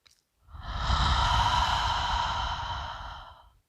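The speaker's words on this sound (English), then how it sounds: "One more time, inhaling through the nose, exhaling with an open mouth." A long, breathy exhale through an open mouth during a full-body yoga breathing exercise, one steady sigh-like rush of air lasting about three seconds, close and clear, with no talking.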